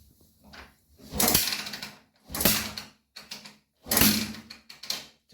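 Honda Tiger motorcycle being kick-started with the ignition off while it fails to start, three loud mechanical kick strokes spaced about a second apart, each with a scraping rush and clunk, close to the microphone.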